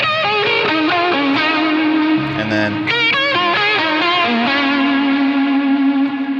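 Electric guitar lead line played through Helix Native effects, overdriven and washed in echo and reverb, sustained melodic notes ringing continuously and loud, with a brief spoken phrase near the start.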